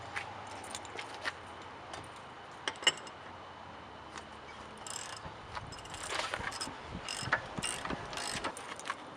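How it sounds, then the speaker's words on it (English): A ratchet wrench with a 19mm socket works the lug nuts on a Jeep's rear-mounted spare tire, its clicking pawl coming in short close bursts with a few sharper clanks, fairly quiet and with no talk. "Got a 19mm socket. I'm going to undo these lugs."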